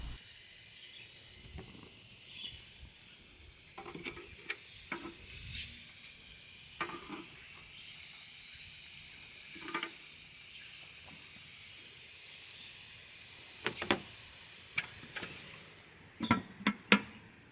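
Tuna steaks sizzle on a hot grill in a steady, close hiss, broken by scattered pops and sharper clanks and scrapes as the meat is turned, most busily near the end.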